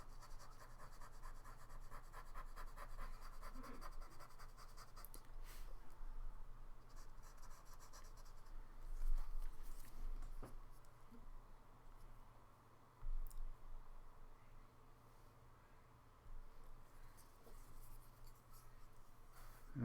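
A rolled paper stump blends soft pastel into paper, making faint, steady scratchy rubbing strokes with occasional small taps, quiet and close with no talk.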